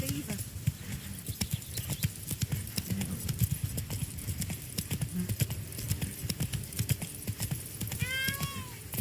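Hooves of the horse Roach clip-clop steadily in The Witcher 3: Blood and Wine, rapid rhythmic thuds running through the whole passage over a busy ambient game backdrop, with a brief whinny-like call near the end.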